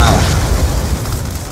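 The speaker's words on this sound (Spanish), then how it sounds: "Aquí me mata una granada" A grenade explodes in a shooter video game with a loud, close blast that fills the moment with a heavy, sustained rumble and crackle, fading only slightly before cutting off.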